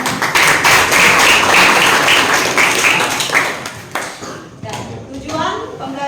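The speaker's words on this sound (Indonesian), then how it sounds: "Ya, bagus sekali tepuk tangan." Classroom clapping from students after a lesson remark on air pollution, a dense burst of hand claps over the first few seconds that thins out, with a teacher's voice speaking alongside.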